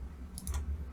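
A computer mouse clicking an on-screen button: two or three quick, light clicks packed close together, faint over a low hum.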